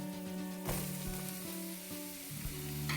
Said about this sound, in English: So in goes the aubergines.